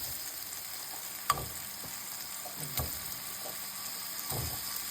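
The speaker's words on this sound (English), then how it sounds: "we're going to add our shrimp in" Shrimp frying in a skillet beside sautéed vegetables and garlic, a steady soft sizzle with a few sharper pops and spatter bursts close by, no talking.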